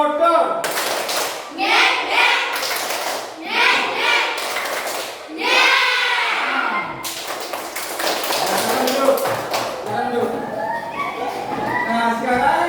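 Children in a classroom perform a rhythmic clapping chant, bursts of patterned hand claps and taps alternating with their chanted voices, close and lively, repeating in short phrases.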